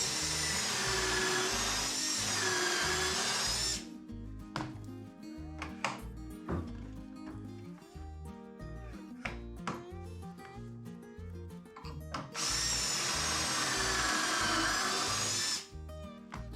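A Kreg pocket hole jig guides a drill boring pocket holes, with two loud sustained high-pitched drilling bursts, each several seconds long, separated by quieter clicking and handling sounds, close up and with no talk.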